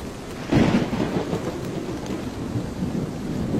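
Cartoon storm sound effect: a sudden rumbling thunderclap rolls in over steady heavy rain that pours on throughout, loud and with no talk.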